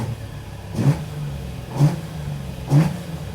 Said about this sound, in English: Throttle pumps are magical